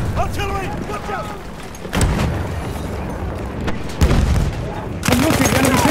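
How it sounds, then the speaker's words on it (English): Artillery fire in the World War I shooter Battlefield 1 on the Suez map, heavy booming impacts landing every second or so amid dense gunfire and battle noise, with a voice briefly audible. "Heads up! Artillery! Watch out!"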